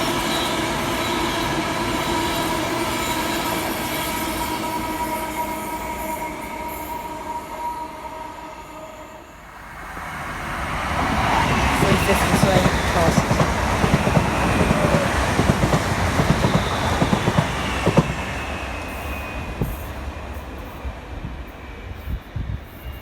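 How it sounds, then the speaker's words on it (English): Class 350 electric multiple unit trains rumble past on the fast lines of the West Coast Main Line, rising clatter and squealing wheels growing louder as they pass close by after a quieter humming approach. "Another pair of Class 350 passes on the fast lines this time, again."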